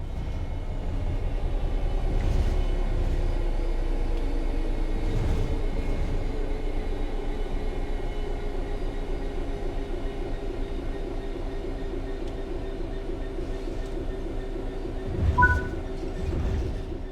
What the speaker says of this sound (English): The train will then coast on level ground, and the train will only slow down very gradually.